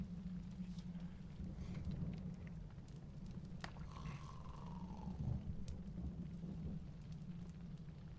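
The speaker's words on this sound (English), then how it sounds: "It's raining cats and dogs." Heavy rain pours in a video game scene, a steady soft hiss of rainfall under a low hum, with no talking.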